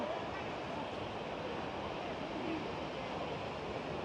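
Ocean surf at Bondi Beach in Sydney, Australia, a steady, loud wash of breaking waves and rushing water with wind noise, continuous and unbroken.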